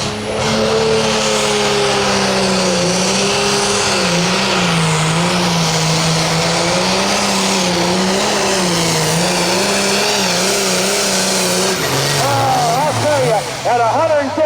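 A modified hot farm tractor roars at full power during an NTPA tractor pull at the Rush County Fair in Rushville, Indiana, its engine note rising and wavering for many seconds while an announcer talks over it.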